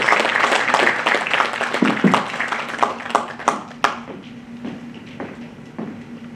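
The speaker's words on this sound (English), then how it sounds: "kindly welcome him with a round of applause" An audience claps to welcome a speaker at an event, a dense burst of applause that thins into scattered individual claps and fades out.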